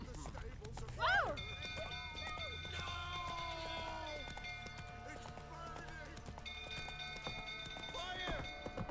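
Roach, the horse in The Witcher 3, gallops with rhythmic hoofbeats while a neigh and crackling fire sit under a voice, game music tones layered above.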